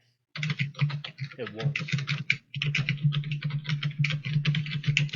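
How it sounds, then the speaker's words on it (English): Rapid computer keyboard typing clatters steadily and close through the clip, continuing under a brief spoken remark. "Who's typing?"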